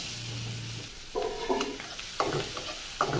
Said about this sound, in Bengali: ঝিঙে দিয়ে চিংড়ি মাছ দিয়ে ভাজি করব